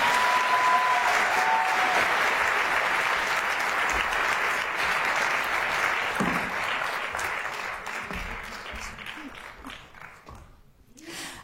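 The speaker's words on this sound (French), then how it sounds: "Et encore un peu d'applaudissements pour les 2 dernières." Sustained applause from an audience at an entrepreneurs' summit award ceremony, dense, steady clapping that carries on for about ten seconds before thinning and fading out at the end.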